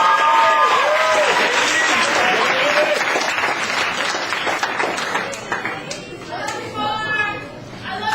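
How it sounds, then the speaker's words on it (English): Applause from an audience at a poetry reading, dense clapping with cheers and chatter that gradually thins and fades over several seconds. "next up, please give a round of applause for Daily Yang."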